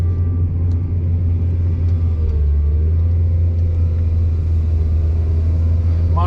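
A large excavator works a corn pile outdoors in snow and rain, its engine a steady, loud low rumble that drones without break, with faint scraping and creaks on top.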